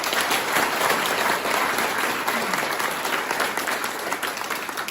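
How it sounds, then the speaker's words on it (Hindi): An indoor audience at a wellness company's speech event gives dense, even applause for a coaching centre. The clapping rolls on for several seconds without a break. "इसके लिए ताली बजाओ एक बार"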